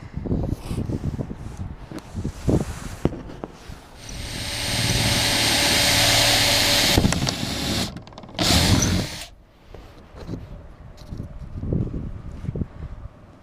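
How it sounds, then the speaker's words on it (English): A power drill whirs steadily for a few seconds drilling a hole in an IBC tote, rising and then dropping off, with a second short burst after it and handling noises around it. "I can drill my one hole down there in the middle"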